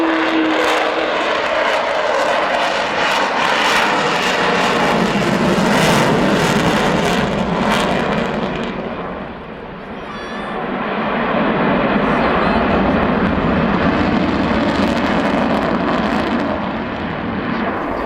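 An Avro Vulcan jet bomber making a wheels-down flypast at an airshow, a loud continuous roaring rumble that dips briefly midway before swelling again, heard alongside voices and crowd noise.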